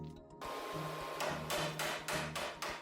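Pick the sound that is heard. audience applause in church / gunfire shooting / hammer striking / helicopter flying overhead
hammer striking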